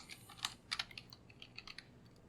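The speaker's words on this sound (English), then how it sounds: "if I can type the switches in correctly" Quick bursts of keystrokes on a computer keyboard, irregular clicks clustered in short runs, close and fairly quiet with no voice.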